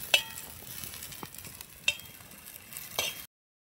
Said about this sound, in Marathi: कांदा आणि खोबरं भाजत आलेलं आहे।